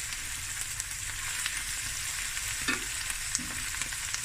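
Garlic fries in a pan over medium heat, giving a steady, close hiss of sizzling oil with a few soft stirring scrapes and small crackles near the end.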